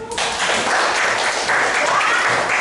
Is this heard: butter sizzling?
no